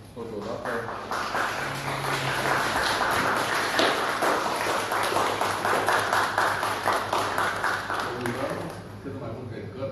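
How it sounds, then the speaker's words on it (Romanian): At a book launch for Gheorghe Roșoga, the audience breaks into warm, close applause that swells and holds steadily for several seconds before easing off. Voices speak at the start and end. "să-l aplaudăm"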